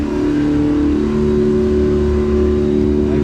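A Tracker Pro 162 boat engine runs on the water with a steady, loud motor drone and a constant low hum, holding without pause, no voices over it.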